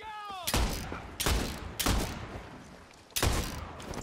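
Gunfire from a weapon in the video game Far Cry 6, four loud, heavy booming shots spaced irregularly about a second apart, each with a long echoing tail, close and alone.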